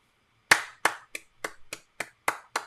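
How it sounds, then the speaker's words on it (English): Eight separate sharp claps ring out with uneven gaps, crisp and close against near silence, each snapping off quickly, more like deliberate single hand claps than a crowd's applause. "applause, applause, applause."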